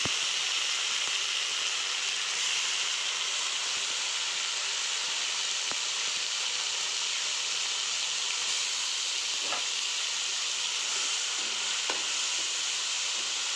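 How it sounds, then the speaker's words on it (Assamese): Tomatoes fry in a kadai, giving a continuous soft hiss and sizzle with a couple of faint stirring clicks, no voices. "অলপমান ভাজি লওঁ, ফ্ৰাই কৰি দিওঁ।"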